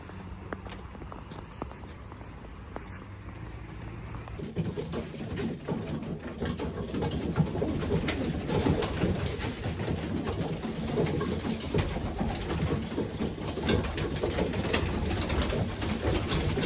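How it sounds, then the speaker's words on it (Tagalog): Pigeons coo while being fed, with low murmuring calls amid fluttering and scuffling that grow busier and louder partway through, close and continuous. "magpapatoka naman ako ng kalapate"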